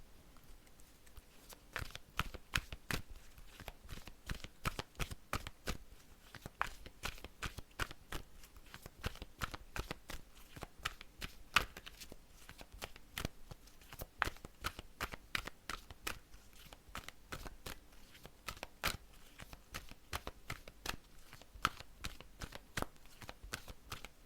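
Tarot cards are shuffled in a quiet room: a long run of quick, soft riffling snaps and taps, fairly close and low in level, going on without a break.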